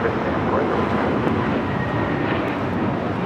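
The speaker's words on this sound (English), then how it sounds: "that was Spirit 711 taking off to Detroit on an A321neo" Spirit Airlines A321neo jet taking off at LAX, a steady loud broadband engine roar that holds evenly throughout without pause.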